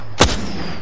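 A single sharp weapon shot fires in the Apex Legends battle royale game, a loud close crack with a short ringing tail over low game ambience.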